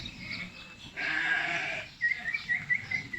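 Van white sheep in a livestock pen, with a sustained bleat around the middle and several shorter, broken calls toward the end, fairly close and moderately loud over a low background rumble.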